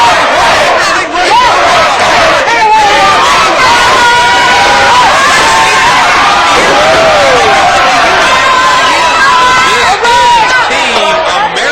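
Loud wrestling crowd chanting and cheering for Team America, a dense roaring mass of voices with rhythmic shouts and swelling cheers throughout.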